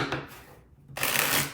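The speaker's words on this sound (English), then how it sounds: "Let's give it a shuffle" A deck of tarot cards being shuffled, a soft riffle early on, then a brief pause and a louder, sustained shuffling burst that runs close and clear to the end.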